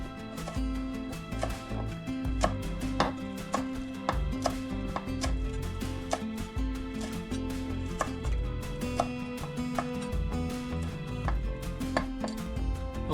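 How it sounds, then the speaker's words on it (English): A knife chops chives in quick, steady strokes, each cut a crisp tap in an even rhythm that runs without pause. Nobody speaks over it. "Now we're gonna chop up some chives"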